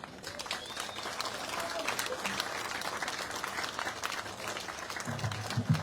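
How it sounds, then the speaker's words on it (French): A crowd applauds Harry Roselmack at the Festival des Mémoires Vivantes in Petit-Canal, Guadeloupe, a broad continuous patter of clapping that holds steady for several seconds, with a faint voice briefly surfacing near the end. "Merci pour vos applaudissements à l'endroit d'Harry Roselmack"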